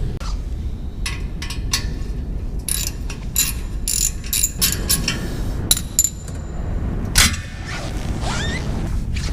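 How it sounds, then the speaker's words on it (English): Hand ratchet loosening a car exhaust tip bolt, giving rapid close clicking strokes in quick bursts with some metallic creaks, then a pause and a final few ratchet turns over faint background noise. "But let's go ahead, loosen that bolt and see what happens."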